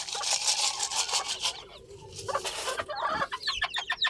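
Hens cluck loudly and continuously nearby, joined toward the end by quick, high-pitched cheeping from chicks.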